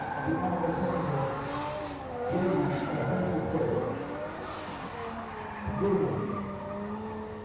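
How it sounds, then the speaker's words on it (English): A drift car at a Southeast Asia Drift Series round in the Philippines scrubs its tires before the start line. The engine revs and wavers while the tires squeal and skid in surging bursts, and a commentator talks over it. "there's a quick tire scrubbing and going to the start line"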